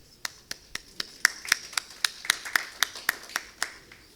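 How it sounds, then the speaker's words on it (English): An audience claps to welcome a speaker at an India–UAE aviation business event, about sixteen crisp, evenly spaced claps over a few seconds that sound like a single pair of hands, near and clear. "with a huge round of applause"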